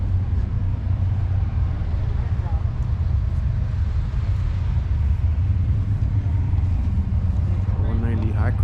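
An Allis-Chalmers 190 diesel tractor engine runs with a loud, steady low rumble throughout, and a person briefly talks near the end.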